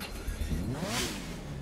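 A Mazda RX-8 (SE3P) engine in The Crew 2 starts and revs up briefly, a smooth rising growl that settles into a fairly quiet idle.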